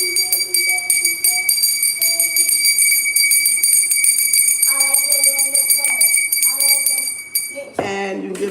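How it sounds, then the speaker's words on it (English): A bell rung for energy clearing in a self-healing session, its bright sustained overtones ringing steadily and layered, with a voice talking underneath and a sharper clang near the end. "or you get a bell"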